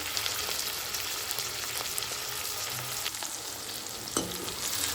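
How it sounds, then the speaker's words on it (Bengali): Ginger garlic paste fries in a pan for egg korma, giving a steady close sizzle with occasional scraping clicks of stirring throughout. "আদা রসুনটা দিয়েও একটু ভেজে নেব যাতে কাঁচা গন্ধটা চলে যায়।"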